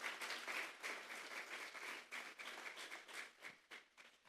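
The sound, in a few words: church congregation clapping as offering to God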